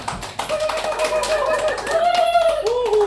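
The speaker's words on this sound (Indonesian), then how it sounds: "Tepuk tangan dulu untuk Pak Adi." Audience at an Indonesian talk or community gathering applauds for a presenter, a steady patter of clapping with a sustained tonal whistle-like sound running over it.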